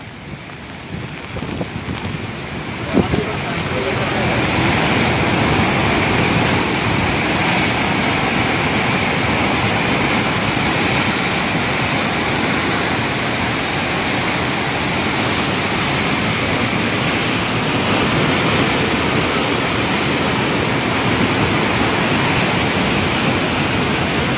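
Floodwater of the Ravi river surging and rushing in a dense, roaring wash that swells after a few seconds and then holds loud and steady, with no voices.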